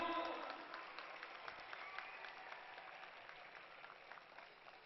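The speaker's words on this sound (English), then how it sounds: "please join me to appreciate and acknowledge the effort and performance of Air Warrior Symphony Orchestra in traditional manner by a huge round of applause" Audience applause for a military symphony orchestra at an air force event: dense, steady clapping from a crowd, fairly distant and gradually thinning toward the end, with no voices over it.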